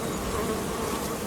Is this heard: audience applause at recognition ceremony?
no